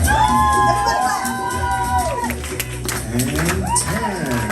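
An audience aboard the cruise ship Symphony of the Seas claps and cheers at a deck show, a loud, steady wash of applause and whoops with music running underneath.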